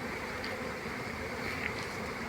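Honey bees hum steadily around the hives of a bee farm with about 400 boxes, a soft, dense buzz with no voices.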